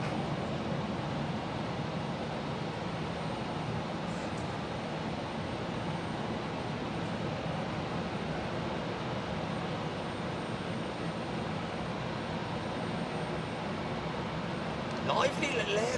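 Broadband airport ambience at Hamburg Airport, a steady wash of aircraft engine roar and hum that stays loud and continuous throughout, with a brief clatter near the end.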